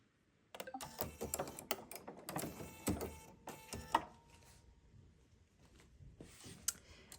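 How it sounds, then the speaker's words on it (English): A Bernina sewing machine stitching with red thread, bursts of rapid mechanical clatter starting and stopping, close and clear, with quieter gaps between runs. "let's go over to the machine and start stitching"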